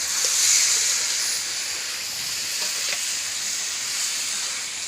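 Meat fries in a pan, with a continuous, fairly loud hiss and sizzle and faint stirring. No voices are audible.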